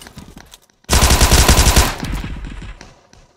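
PUBG Mobile gunfire: a loud, rapid automatic burst lasting about a second, followed by quieter scattered shots and game noise fading out.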